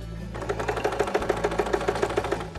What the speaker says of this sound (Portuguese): Aí eu novamente faço uma costurinha aqui para unir essa outra